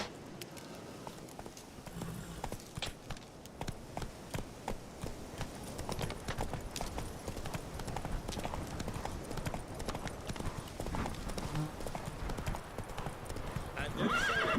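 Horse hooves clip-clop in a steady galloping rhythm throughout, with an occasional whinny, in the fantasy game Witcher 3: Wild Hunt; the hoofbeats are close and continuous, with game dialogue faintly underneath.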